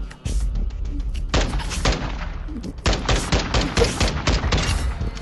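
Rapid-fire gunshots ring out in the Warzone video game, a dense, loud stream of close shots and bursts layered with battle noise through the whole stretch.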